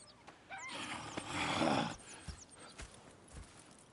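A horse whinnies loudly in a video game, with hooves clopping and shuffling nearby before and after.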